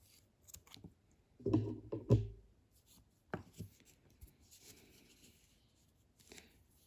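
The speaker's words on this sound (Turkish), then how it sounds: "Şimdi bunu da keselim." Scissors cut yarn for an amigurumi heart-shaped bag charm, with a couple of close, crisp snips followed by quieter handling rustles in a quiet room.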